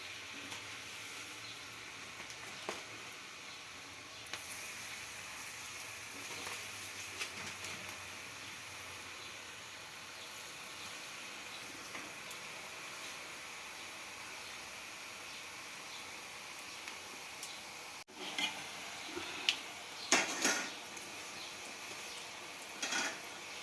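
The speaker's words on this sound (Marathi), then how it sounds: "त्याच्यामध्ये चकल्या घालून तळून घेऊयात आपण." Chakli frying in hot oil over medium heat, a continuous soft sizzle and bubbling throughout, with brief clinks and scraping louder toward the end.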